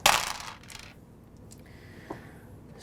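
Dice clatter in a tabletop miniatures game: a loud burst of rattling as a handful hits the table, quick follow-up clicks, then a few faint settling ticks.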